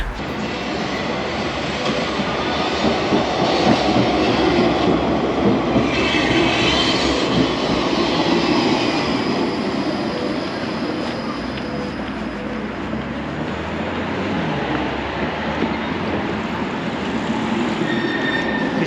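Tram rolling through the city of Konya, Turkey, heard from inside the car: a steady rumble of wheels on rails with rhythmic clicks and occasional high metallic squeals, faint voices in the background.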